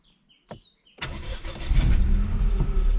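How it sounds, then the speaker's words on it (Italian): A Dacia Sandero engine cranks and fires up after a few faint clicks, then settles into a loud, steady running rumble close by. "io accendo l'auto"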